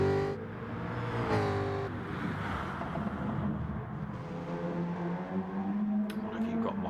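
Race cars from the Gran Turismo video game on an out lap at Fuji Speedway, a steady engine drone with rising revs and shifting pitch, mid-level and continuous, with faint background speech.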